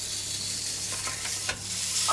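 Meat for a McRib-style baguette sears hard on a hot grill, a steady close sizzle with a few faint scrapes and taps, no voices.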